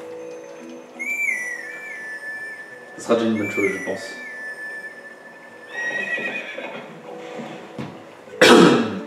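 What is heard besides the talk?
calling the horse in Zelda Twilight Princess video game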